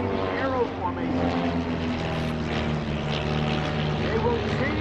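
Propeller engines of Vans RV aircraft flying in formation at EAA AirVenture 2018 airshow, a steady, loud multi-engine drone that fills the air continuously.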